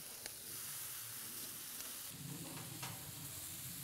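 Bacon frying on an Infinity 5 burner barbecue gives a steady, close sizzle with a bright hiss, a few faint clicks and scrapes, and a slightly louder, fuller crackle partway through, with no talking.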